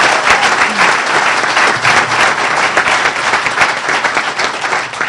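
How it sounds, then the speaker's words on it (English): Sustained loud applause from an AA meeting crowd, dense clapping filling the room evenly without a break. "I like to give them a round of applause"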